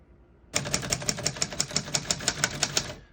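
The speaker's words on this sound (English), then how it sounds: "all the keys type nice and none of them skip or stick" Typing on a 1959 Royal Royalite vintage portable typewriter: a quick, even run of about fifteen sharp, close keystrokes clacking one after another, with no voices.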